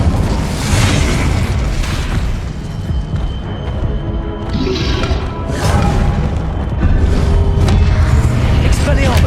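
Incendio fire spell blasts in Hogwarts Legacy during the Pensive Guardian boss fight, heavy rumbling booms and bursts layered over dense, continuous battle noise.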